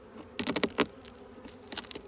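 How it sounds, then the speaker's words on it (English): Honeybees buzzing around a hive box set out to catch a swarm from a bush outdoors, a faint steady drone with a few louder close passes of individual bees flying near. "Leave that open because there's a lot of bees out here."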